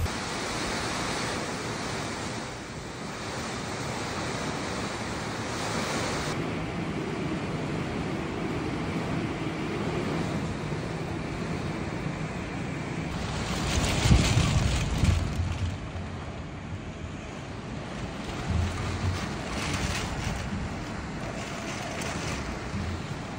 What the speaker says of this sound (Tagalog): makikita ang malakas na pagragasa ng tubig sa ilog